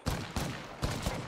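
Gunfire in a competitive shooter video game, a few quick bursts of shots in close succession, moderately loud and without voices.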